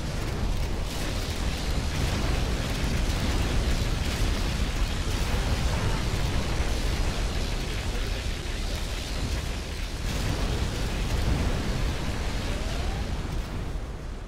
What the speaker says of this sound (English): Particle cannon activated.